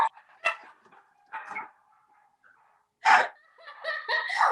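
Dogs barking in a home office during a work-from-home call, a few sharp barks and yips in separate bursts with quieter whimpering gaps between them.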